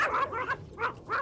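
A Yorkshire terrier barks four times in quick succession: sharp, high, fairly close yaps with short gaps between them.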